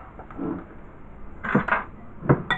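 A fork scraping and clinking against a bowl while mixing low-carb peanut butter cookie dough, with soft scraping and a few sharper taps, fairly close and quiet.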